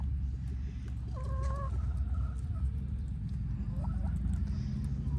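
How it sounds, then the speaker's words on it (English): A golden laced Wyandotte hen clucks a few soft, short calls at a moderate distance over a steady low outdoor rumble in a backyard garden with other chickens and a turkey around. "this is a golden laced Wyandotte"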